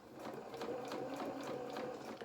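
A sewing machine stitches fabric for a doll jacket, its needle chattering in a steady fast rhythm, fairly quiet and close, with no talking over it.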